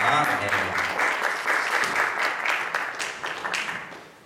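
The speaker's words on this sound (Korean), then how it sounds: "박수로 한번 환영하도록 하겠습니다" Warm audience applause at a church conference welcoming panelists to the stage, steady and full for several seconds before gradually thinning out.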